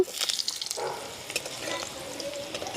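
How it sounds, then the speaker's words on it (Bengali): Chopped capsicum frying in hot oil in a pan, heard as a brief close sizzle with a few stirring scrapes, alone without speech. "এবার ক্যাপসিকামটা একটু ভেজে নেব"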